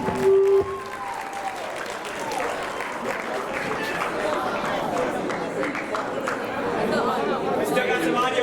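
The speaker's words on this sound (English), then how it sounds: "please give these guys a round of applause" A crowd applauds and cheers steadily after a talent show performance, with chatter mixed in; a brief tone sounds at the start, and the clapping swells slightly near the end.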